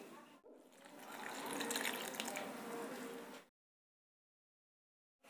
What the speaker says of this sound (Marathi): ह्या सोयाबीन वडीतलं व्यवस्थित असं पाणी दाबून निथळून घ्यायचं आहे खाली या पद्धतीने